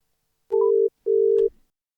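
Telephone tone heard while ringing a guest: two steady, loud electronic tone bursts separated by a short gap, with a brief fade after the second. No one speaks.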